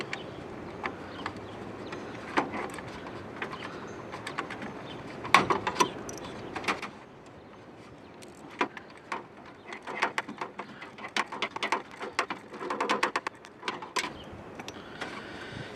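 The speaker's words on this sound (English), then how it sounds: "get you a small ratchet like this" Small hand ratchet working loose the 10mm radiator bolts by the support bracket on a Chevy Trailblazer, a run of quick close metallic clicks and scrapes in bursts, with a brief pause midway and no talking.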